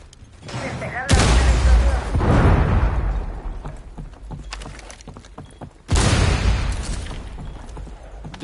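A frag grenade explosion in a tactical shooter video game, two loud booming blasts several seconds apart, each with a sharp onset and a long rumbling decay, with scattered gunfire crackling between them.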